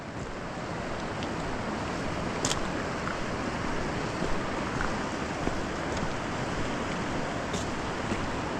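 The French Broad River flows beside a trail near Hot Springs, North Carolina, a steady, broad wash of moving water blended with wind noise on the microphone and occasional faint clicks.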